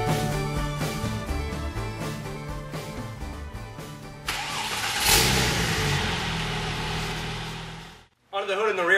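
A 2004 Porsche 911 Turbo Cabriolet with a rear-mounted 3.6-liter twin-turbo flat-six: a rising engine roar swells midway under background music and talk, then cuts off abruptly near the end.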